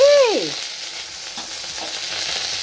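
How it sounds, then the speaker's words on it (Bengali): Fish frying in a pan, a constant close sizzling hiss running throughout, with a brief tonal sound at the start. "মাছটা ভাজছি"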